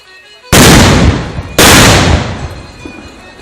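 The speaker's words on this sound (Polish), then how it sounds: "Ostatnie wystrzały, które mają zmusić do poddania się załogę Sąbkowickiego Grodu." Two very loud gunshots about a second apart at a reenactment of the 1335 Battle of Ząbkowice, each booming close by and rolling off in a long echo.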